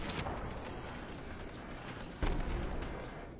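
A weapon explosion in Borderlands 3, heard as a sudden heavy boom partway through over a steady low rumble of game background noise, with no talk.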